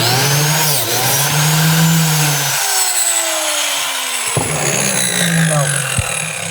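A biscuit joiner whirs loudly as it plunges into a board held down on the bench, its motor pitch dropping as the blade bites into the wood, then a couple of sharp knocks follow.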